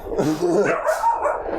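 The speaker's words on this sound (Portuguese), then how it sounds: "Olha o cachorro latindo." A dog barks in a quick run of sharp, yipping barks, close by and fairly loud, with no talking.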